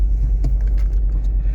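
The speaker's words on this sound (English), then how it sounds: "Start the car up. Revs work. I'm assuming that's roughly where it idled before." Ford Focus ST engine turning over and settling into a steady low idle, a close, continuous rumble with a brief clatter as it fires.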